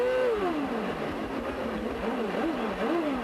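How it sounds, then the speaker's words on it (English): A CART Indy car's engine revs in the pit lane at Michigan during a 1997 race while the car fails to get into gear; a rising and falling engine whine sustains throughout, with repeated throttle blips toward the end. "Listen to the engine revving."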